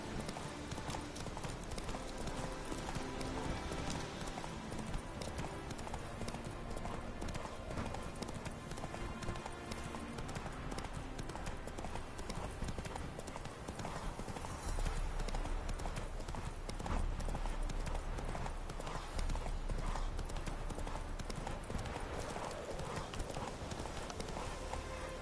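Roach, Geralt's horse in The Witcher 3: Hearts of Stone, trots steadily throughout with continuous rhythmic hoof clip-clops, close and loud over dense game music and ambience.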